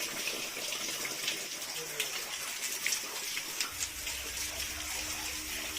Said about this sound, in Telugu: ఈ కొండల మధ్యలోంచి అయితే వాటర్ అయితే ప్రవహిస్తూ ఉన్నాయి కిందకి